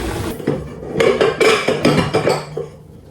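Ceramic bowls and metal forks clink and clatter while spaghetti is served, a busy run of close, sharp knocks and rattles with no talking.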